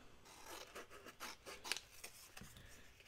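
Scissors snip through scraps of old magazine paper being trimmed for a collage, a quiet series of short, uneven cutting and rasping strokes close by, with no talking.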